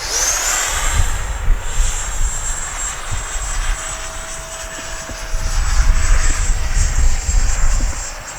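A Freewing F-16 70mm V3 electric ducted-fan RC jet makes a slow pass, a loud steady high-pitched whine over a rumbling rush of air that swells slightly as it goes by.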